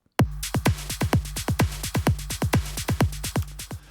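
Drum hits are repeated by a tape-style dotted eighth-note delay at roughly 30% wet, so each punchy kick and snare is followed by rhythmic, evenly spaced echoes in a steady, busy pattern.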